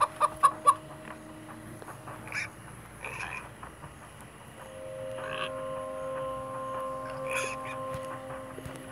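Chickens cluck in the Minecraft Story Mode video game in short, scattered calls over a busy bed of game sounds and steady tones.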